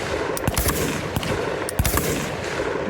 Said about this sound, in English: On the last one, you'll notice I drop a mag and then shoot.